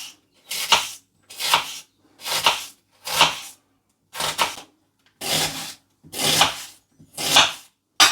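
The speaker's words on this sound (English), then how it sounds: "we just want thin slices of onion" Onion sliced thin against the grain with a kitchen knife on a board, close by: eight steady chopping strokes at an even, unhurried pace, each a crisp thunk with short gaps, no talking.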